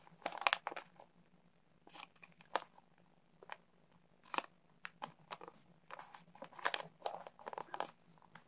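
Paper being folded for origami, a close, quiet series of crisp crinkles and creasing crunches in irregular bursts with short pauses between.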